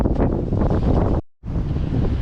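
Wind blowing at Eli Creek on Fraser Island, loud gusty buffeting across the microphone in a continuous roar, cut off by a brief silent gap before resuming.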